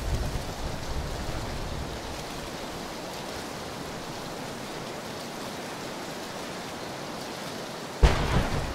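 Thunderstorm in the video game PUBG: steady heavy rain hiss fills the scene with low rumbling, ending in a sharp thunder crack near the end, no talking.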